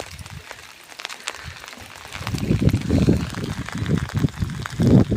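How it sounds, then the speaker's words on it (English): Rainwater pours and splashes off a tree in wintry Cornwall during medium rain, a close, irregular gurgling patter that swells louder after the first couple of seconds. "film the rain running off it"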